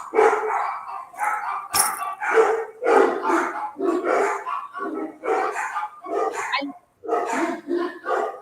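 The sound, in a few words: dogs barking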